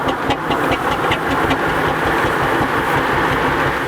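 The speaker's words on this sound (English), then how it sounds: "Okay, we've got some more of our miniature engines now." A miniature steam traction engine running at a steam and vintage show, giving a loud, close, steady rhythmic chuffing and mechanical rumble with no talk.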